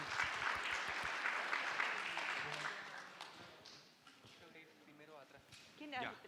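An audience at a medical conference applauds, a dense, moderately loud wash of clapping that fades over a few seconds as a voice begins speaking near the end.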